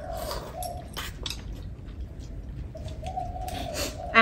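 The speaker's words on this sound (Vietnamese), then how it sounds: "chim hót, cu hót" Birds chirp and doves coo in an outdoor garden, with repeated soft cooing phrases and scattered sharper calls close by, and a louder chirp at the end.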